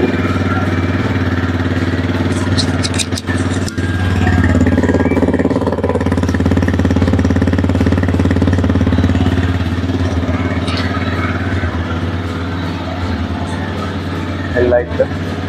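A TVS Raider motorcycle (Ironman edition, 2024) idles after starting, a steady mid-pitched engine rumble, close and loud, with someone talking over it throughout.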